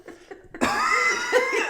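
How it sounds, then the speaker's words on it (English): A person coughs indoors, a couple of short quiet hacks followed by a louder, drawn-out raspy cough. "You're coughing."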